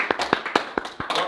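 Children at an eighth birthday magic show give a handful of sharp, close claps in quick uneven succession, about six distinct hits over barely a second.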